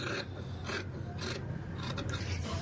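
Scissors cutting through folded blouse fabric during a tailoring lesson, a steady close rasping and snipping that runs without a break and with no talk.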